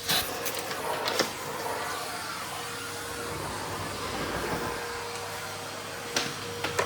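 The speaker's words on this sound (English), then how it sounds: "Vacuuming quite often takes longer than I think." A vacuum cleaner runs continuously while cleaning a big house, a steady whirring drone with a few brief knocks and bumps near the start and end.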